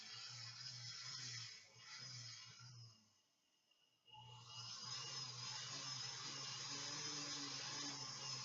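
A rotary burr grinds steadily at close range in two sustained stretches, a harsh high whine with a low motor drone underneath, broken by a brief near-silent pause midway before resuming.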